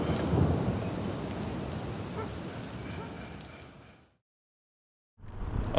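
Steady heavy rain pours down on a tent while camping, with a dense hiss, cutting out abruptly for about a second before resuming.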